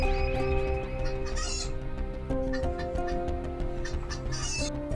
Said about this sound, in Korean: 스피커로 닭 울음소리를 들려주자